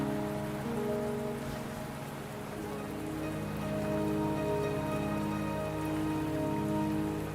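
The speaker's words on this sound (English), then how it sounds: "Don't worry, the rain won't last much longer." Rain falls in a video game as a steady, close, even hiss of drops on surfaces, continuing throughout under a faint tonal background, with no voices.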